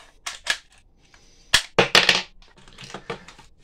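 A toy cap gun fires percussion caps in several sharp cracks, near and loud, with quieter mechanical clicks and handling noise between them and no speech.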